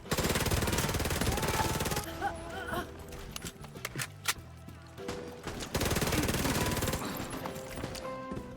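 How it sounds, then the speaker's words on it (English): Heavy gunfire in The Division 2, with enemies closing in using a shotgun: loud dense bursts of shots fill the opening seconds, thinner scattered blasts follow, then a second loud sustained volley near the end. "that was close because they were coming with the shotgun"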